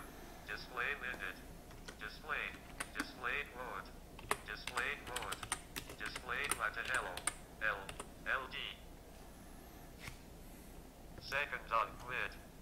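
Typing on a TI-Keyboard connected to a TI-84 Plus Orion calculator, bursts of quick plastic key clicks in uneven clusters, fairly close, with some short faint pauses between runs.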